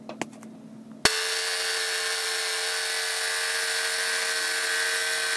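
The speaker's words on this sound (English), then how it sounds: "So now I'm going to cut it out with the jigsaw." A jigsaw cuts half-inch oak wood, starting abruptly after a few small taps and holding a steady, loud, high-pitched whine for several seconds.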